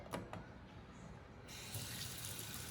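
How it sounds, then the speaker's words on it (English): Water poured from a tap over freshly sprouted mung and pinto beans, a steady close splashing that grows fuller and louder halfway through, with no talking. "I'm gonna water them first, just a little bit."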